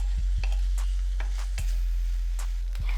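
Onions sautéing in oil in a pan, a soft sizzle under a loud low hum, broken by repeated light clicks and scrapes of stirring about every half second.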